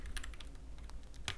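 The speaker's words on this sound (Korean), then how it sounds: "그리고 타건음 소리가 좀 명료한 편입니다" Crisp keystrokes on an EPOMAKER TIDE 75 mechanical keyboard with foam-filled build, a burst of several close clicks followed by a louder cluster at the end, heard alone without talk.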